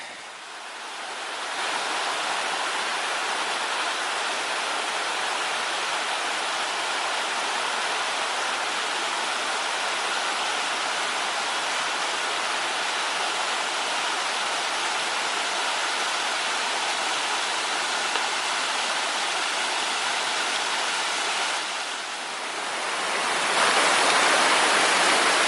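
Heavy waterfall swollen by ten hours of rain, a steady loud roar of rushing water filling the whole stretch without a break, easing slightly for a moment near the end before surging again.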